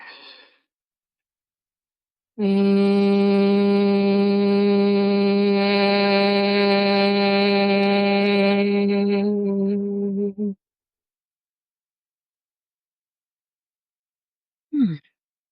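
A sustained, steady hummed tone in Brahmari bee breath, imitating a bee's buzz, held loud and even for about eight seconds after an inhale, then fading out, with a short breath sound near the end.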